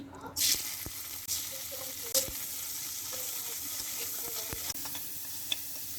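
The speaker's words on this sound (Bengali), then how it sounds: "প্রথমে চিংড়ি মাছগুলো 2-3 মিনিট একটু ভেজে নেব।" Turmeric-and-salt-coated shrimp sizzle quietly in a wok, with a few sharp clanks and scrapes of a spatula stirring over the low, steady frying hiss.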